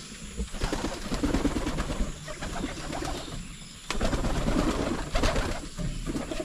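Domestic pigeons cooing in a loft, with soft repeated coos from several birds close by, occasional wing flaps among them, and steady rustling activity throughout, with no talking.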